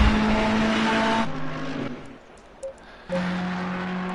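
Legendary Ferrari 888 race car lapping the Hungaroring in a racing game, its engine droning loud and close, then easing off briefly before surging back up.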